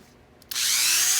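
A Craftsman variable-speed rotary tool, rated 5,000 to 30,000 RPM, starts up after a moment of quiet. It then runs with a loud, steady high-pitched whine close by.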